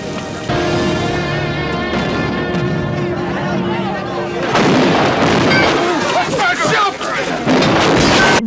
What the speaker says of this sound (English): They had to add the explosion to confirm the death.